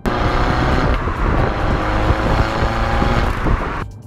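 Close, loud car engine revving, a dense throaty roar that rises and surges before cutting off abruptly near the end.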